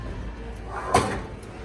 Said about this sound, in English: Ooh, and it's got the slow close drawers.